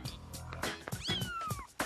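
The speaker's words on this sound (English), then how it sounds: "I heard these little meowing sounds" Small kittens meowing in a bedroom closet at night, several thin high mews rising and falling close by, layered over other soft background sounds.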